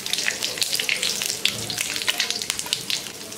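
Panch phoron and bay leaf sizzle in hot oil for a Bengali tilapia curry, a close, crackling fry with quick popping spits over a steady hiss.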